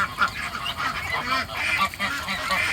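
A flock of ducks quacks and chatters busily at feeding time over wet feed, a dense, continuous clamour close by.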